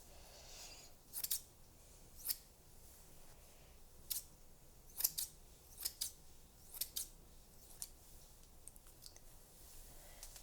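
Hair-cutting scissors snip in a soft-spoken ASMR salon haircut, with sharp close crisp snips coming singly and in quick pairs at an uneven pace over a quiet background, with no talking.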